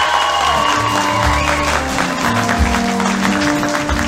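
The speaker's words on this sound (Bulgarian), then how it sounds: "Аплодисменти за Галя" Wedding guests applaud the bride's mother in a steady, dense burst of clapping that lasts throughout, with music playing underneath.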